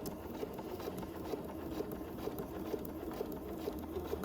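Domestic sewing machine running steadily while making a few stitches and back stitching on a quilt sampler spool block, a continuous close rapid needle patter with no pauses and no talking.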